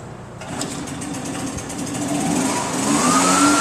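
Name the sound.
Husqvarna leaf blower engine running a rotary drywasher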